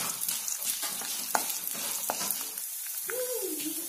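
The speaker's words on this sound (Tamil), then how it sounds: "எண்ணெய் காய்ச்சிருச்சுங்க, கடலைப்பருப்பு போட்டுருவோம். அது கூடவே உளுந்து பருப்பையும் போட்டுக்கலாங்க." Chana dal and urad dal crackle and sizzle in hot oil, close and constant, with a few sharp taps of a spoon against the pan and a brief drop in the bubbling near the end.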